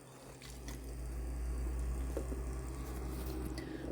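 Water runs and splashes faintly as someone gets a drink, a soft, steady liquid trickle with small wet squishes and no speech.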